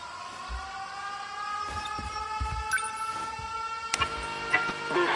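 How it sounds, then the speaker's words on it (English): Air raid sirens wailing in 13 Sentinels: Aegis Rim, several sustained tones layered at steady volume for the whole stretch, with a few low thumps and a brief sharp burst partway through. "Air raid alarms have been sounded."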